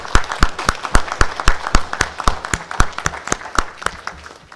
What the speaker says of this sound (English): I'd like to just give a big round of applause to our spellers and their families for all the work